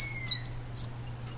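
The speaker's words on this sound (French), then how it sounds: "Une autre mésange se met à voltiger de branche en branche, tout en chantant." A tit sings while flitting between branches, giving a few quick, high, bright chirps in a brief burst over a steady low hum.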